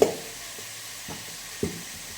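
Potatoes and meat fry in a pan with a soft, steady sizzle, broken by a few light clicks as the pieces are stirred.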